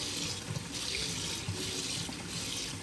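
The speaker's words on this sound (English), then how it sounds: "First, we gotta rinse off all these tomatoes." Tap water running into a sink while tomatoes are rinsed for canning: a soft, steady stream splashing against produce, close by and fairly quiet, with no talking.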